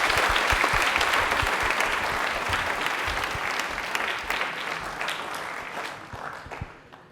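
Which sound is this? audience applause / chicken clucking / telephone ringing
audience applause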